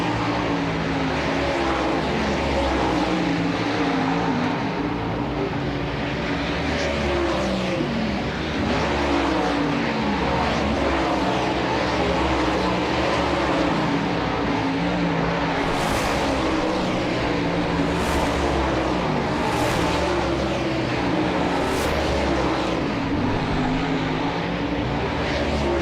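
World of Outlaws super late model race cars roar around Selinsgrove Speedway during hot laps, a loud continuous wall of engine noise with cars repeatedly passing and revving throughout.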